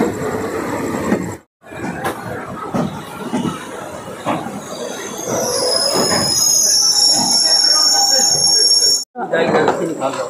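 A night train halts at Jogighopa station with rumbling and squealing wheels, a high-pitched whine building over the steady noise, cut by two brief silences, while a voice speaks.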